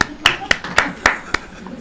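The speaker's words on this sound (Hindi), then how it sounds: "जोरदार ताली बजाओ हमारे लिए।" A handful of separate hand claps ring out in an uneven rhythm at a Hindi spiritual talk on children's mobile addiction, loud and close, with a voice speaking around them.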